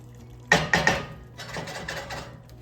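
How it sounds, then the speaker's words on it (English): Soup stock is poured into simmering rice for supplì, giving a short splash and clink of a ladle against the pot, followed by softer bubbling and stirring sounds close by. "Let's add a little more soup."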